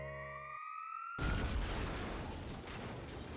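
A wailing alarm siren in the mobile game Fate/Grand Order, a rising electronic tone that cuts off and gives way to a loud, dense rumbling burst that fills the rest of the moment.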